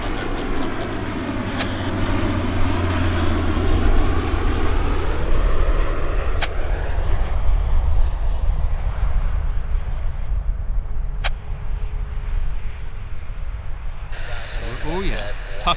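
A WestJet airliner at Vancouver Airport gives a continuous jet engine roar with a falling whine, heard under a voice talking over it.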